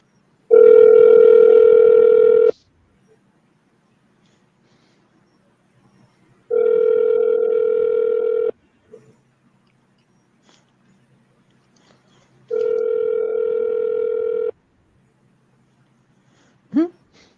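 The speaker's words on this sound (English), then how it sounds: "That's the phone ring." A telephone rings out on a live FM radio call-in show: three long, loud, steady ring bursts separated by silent gaps, with a click at the end.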